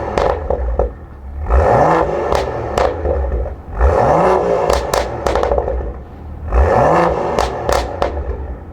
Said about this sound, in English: we've got a Miltech exhaust system, which I'm going to give a rev for you now